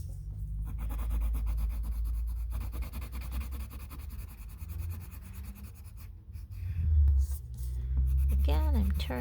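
Coloring on paper with a crayon or colored pencil makes soft, close scratching and rubbing strokes, faint and intermittent, while someone talks over most of it.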